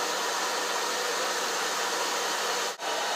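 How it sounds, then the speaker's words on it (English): A hair dryer blows with a steady, close whooshing hiss, briefly dipping for an instant before resuming at the same level. "when you're using a hairdryer, make sure it stays far enough above your picture"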